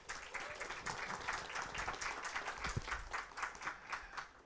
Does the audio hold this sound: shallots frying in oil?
no